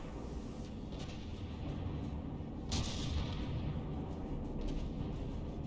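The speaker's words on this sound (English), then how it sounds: "Oh, looks like the rear turret has been disabled. Oh, no, not disabled. It's still firing." A battleship's rear turret keeps firing at a reduced rate in the naval video game Battleship Brawl, with heavy booms over a constant low rumble of engines and sea.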